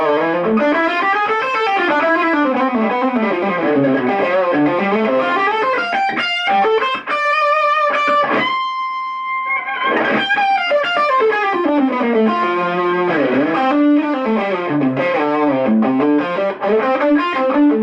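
Saturated, sustaining lead electric guitar played through a Mesa Boogie Nomad 45 amp, loud and continuous with melodic runs, held bends and a brief sparse pause midway, no talking.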